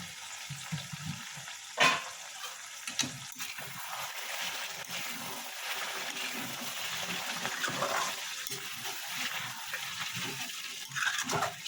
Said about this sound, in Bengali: মশলাটা বেশ কষা কষা হয়ে গেছে। এর সঙ্গে আলুটাও কষা হচ্ছে, দুটো একসঙ্গে হয়ে যাচ্ছে।